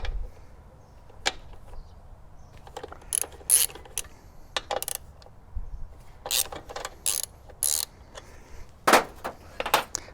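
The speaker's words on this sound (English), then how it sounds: "I'm going to be removing these 2 Torx bolts from the frame using the Torx 45 socket and a ratchet with the extension." Ratchet with an extension and Torx 45 socket working frame bolts loose on a Husqvarna 701 motorcycle during crash bar fitting, close-up clicking in irregular bursts of rapid pawl ticks with short pauses, quiet and without talk.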